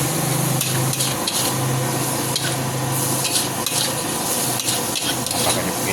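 Spicy mie goreng noodles are stir-fried in a pan, with continuous sizzling under rapid, clattering scrapes and knocks of the spatula, loud and close, with no talking.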